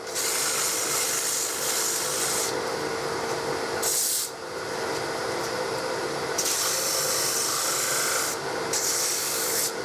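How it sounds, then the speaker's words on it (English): A steady loud hiss of a dust extractor runs throughout, with abrasive rubbing of sanding starting and stopping over it. "I did turn my dust extraction on. That's the noise you can hear in the background."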